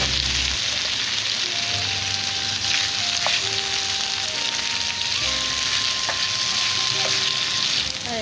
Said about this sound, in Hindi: आलू फ्राई हो गए।